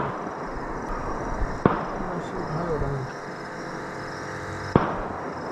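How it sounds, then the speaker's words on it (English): Two sharp, isolated bangs a few seconds apart ring out over a noisy outdoor background, with a faint voice murmuring in between. "Gunfire, brother."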